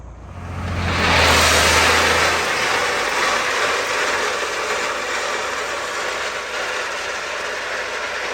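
A John Deere 1025R compact tractor spreading driveway stone over fabric, its engine revving up and then holding a loud, steady roar close by, with a low rumble at the start.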